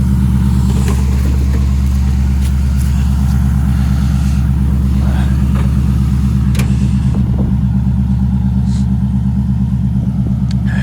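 An LS1 V8 swapped into a Nissan 240SX idles steadily and loudly up close with a deep, even rumble, running off battery with the alternator belt removed.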